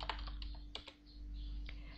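Computer keyboard keys clicking in short irregular bursts as a command is typed into the Aardwolf MUD text game, close and fairly quiet against a steady low hum.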